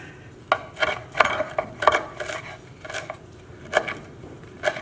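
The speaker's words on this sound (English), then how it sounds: "And we will chop them up." Fresh herb leaves pulled from four sprigs are chopped with a knife on a board, producing irregular sharp taps and knocks, some in quick pairs, close and fairly quiet with no talking.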